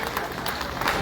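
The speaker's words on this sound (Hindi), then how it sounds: "जोरदार तालियां बजाते रहेंगे" A crowd claps along at a community celebration of a jayanti festival, a brief, fairly faint and even patter of many hands with a little murmur mixed in.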